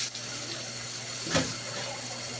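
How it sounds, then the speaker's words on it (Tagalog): A machine refills with hot water from a boiler after draining. A soft, steady rush of running water flows throughout, with a short gurgling surge midway, fairly quiet. "Pagkatapos niyang mag-drain, automatic, nagkakarga na naman siya ng tubig na mainit galing sa boiler."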